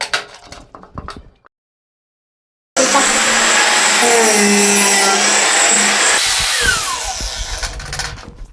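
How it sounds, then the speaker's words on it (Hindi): An angle grinder mounted on a stand cuts through a 1-inch round metal pipe, a loud, sustained high-pitched whine and grinding screech that starts abruptly after brief handling noises and a pause, then winds down near the end. "यहां पर हमने 1 इंच का राउंड पाइप काटा है।"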